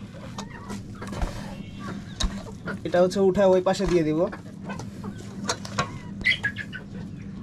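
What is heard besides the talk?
chickens clucking in rooftop coop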